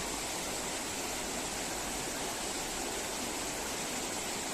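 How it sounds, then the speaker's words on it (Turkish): Stream water in a park in Pontypool rushes steadily and fairly loud, as a dense, unbroken flow with no voices over it. "Burada böyle sabaha kadar oturup suyun sesini dinleyebilirsiniz"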